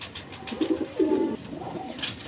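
Flying pigeons bred from a cross of Mian Nazir's birds give a short run of soft, throaty coos, two or three rolling calls close by against quiet background noise.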